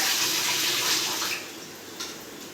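Water pours from a tap in a steady hissing stream to wash and soak rice for idli batter, then eases to a softer flow with a small splash near the end.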